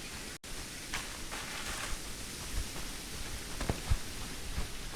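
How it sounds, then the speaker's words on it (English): Steady rain falls in the survival game Forest Doesn't Care, a dense, even hiss with scattered heavier drops and faint rustles, continuous and close with no voices. "So much rain."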